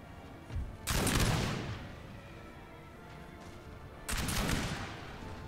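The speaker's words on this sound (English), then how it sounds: "they're firing concentrated volleys" Two massed musket volleys crash out in a Napoleonic battle in Napoleon Total War, each a dense, loud rattling burst of simultaneous shots about three seconds apart, with a lingering rumble between them.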